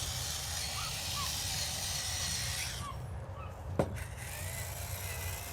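Shallots sizzling in a pan at a barbecue, a steady broad hiss that runs throughout, briefly dipping with a sharp knock near the end, close and moderately loud.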